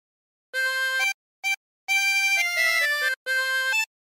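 Harmonica playing the tune Lavender's Blue as a few short phrases separated by brief pauses, clear and close with bright reedy chords and no other sound.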